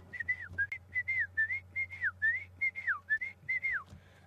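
A person whistles an imitation of the Shelley's francolin call, a faint series of short rising and falling whistled phrases repeated rhythmically about a dozen times over a low background hum.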